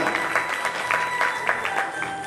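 An audience at a reunion gathering of folk artists applauds, giving a short burst of steady clapping from a crowd in a hall, moderately loud, with no voices standing out.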